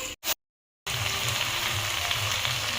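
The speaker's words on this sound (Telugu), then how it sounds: "ఇవన్నీ కాసేపు ఆయిల్లో మగ్గనివ్వాలండి" Drumstick and bottle gourd pieces sauté in hot oil, giving a steady, close sizzle that starts after a brief silent gap and carries on evenly to the end.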